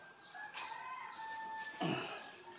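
Chickens and a rooster in a farmyard at feeding time, with a faint crow and soft clucking against steady background noise, ending in a louder rustle.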